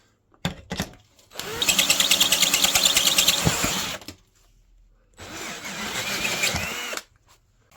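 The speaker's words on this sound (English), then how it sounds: "I just need to drill it out a tiny bit bigger so it does fit" A power drill whines steadily at high speed for about three seconds while enlarging a hole in a car hinge, pauses, then runs again for two more seconds, close and loud.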